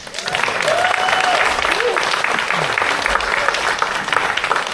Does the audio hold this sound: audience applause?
yes